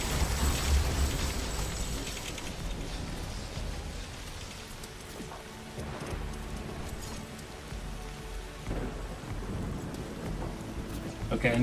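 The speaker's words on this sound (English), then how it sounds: "I can hear distant thunder. The wind is also picking up." Thunderstorm in The Riftbreaker video game, with steady heavy rain drumming on surfaces and low rolling thunder swelling and fading in the background throughout.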